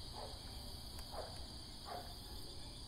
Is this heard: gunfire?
no